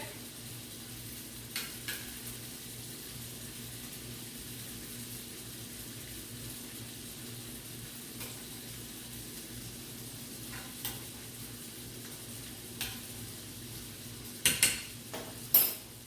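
Curry-spiced vegetables fry in a pan with a steady low sizzle throughout, punctuated by a few clinks and scrapes of a utensil stirring against the pan, louder near the end.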